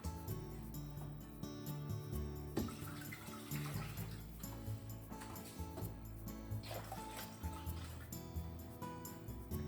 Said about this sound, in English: Let's put 4 cups of water, hondashi, and tofu in the pot.